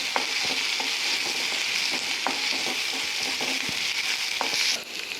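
Dried onion, whole onion and green onion fry in ghee with cumin in a pan, giving a constant loud sizzle broken by sharp clicks of a spoon stirring, close up with no talk.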